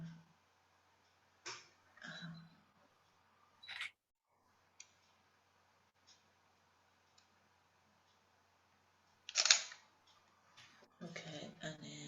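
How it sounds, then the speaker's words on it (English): A camera shutter fires in a few separate clicks, one short and one longer exposure, set apart by quiet gaps with light handling noises in between. "we're going to try the two extremes of shutter, and we're going to take a picture on each end."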